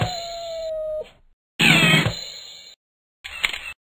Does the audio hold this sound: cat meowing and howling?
yes